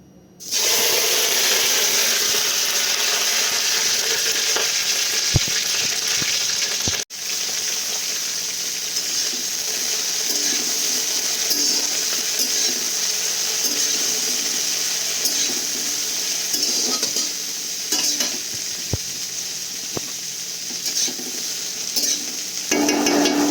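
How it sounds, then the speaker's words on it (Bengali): Broccoli hisses loudly in hot oil, a steady close sizzle that runs the whole time, broken by one brief sharp knock and a few faint scrapes. "তো তেলটা গরম হয়ে গেছে, এরপর আমি এখানে ব্রকলিগুলো ভেজে নেব।"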